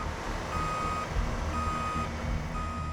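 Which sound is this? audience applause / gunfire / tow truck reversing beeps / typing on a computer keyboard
tow truck reversing beeps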